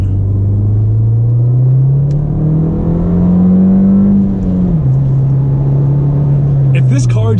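A Ford Fiesta ST engine pulls under acceleration, a loud, steady drone that climbs in pitch for about four seconds, dips briefly, then holds and eases near the end, with a faint voice heard alongside.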